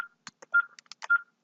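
Telephone keypad tones sound as a number to Poland is dialed: a brisk string of short beeps with two longer held tones, clear and close against silence.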